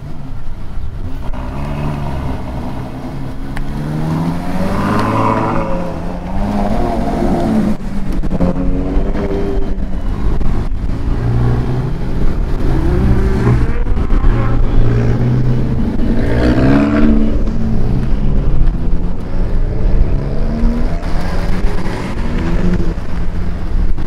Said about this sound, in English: We got the Lambo truck.